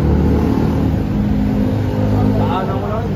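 Motorcycle engines rev loudly and steadily at a gathering of riders at Eastwood Mall in Quezon City, a continuous close roar with voices mixed in.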